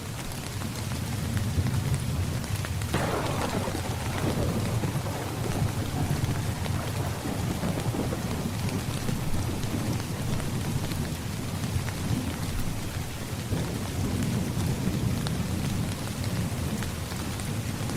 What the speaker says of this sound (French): Vient ensuite un son agréable, celui de la pluie.